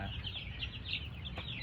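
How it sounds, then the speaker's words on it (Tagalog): Two-week-old fighting-breed chicks peep in a brooder, a busy chorus of high, thin cheeps over a low rumbling background, close by. "So ayan yung mga sisiw ko."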